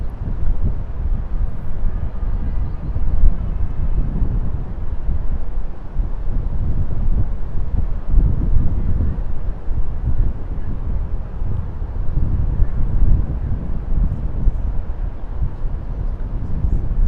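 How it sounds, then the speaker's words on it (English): Wind gusts roar across a rooftop above New York City at sunset, a loud, continuous low buffeting rush against the microphone that swells and eases for the whole stretch, no talking. "So it's still windy, but it did quiet down compared to how the wind was blowing just about 3 minutes ago."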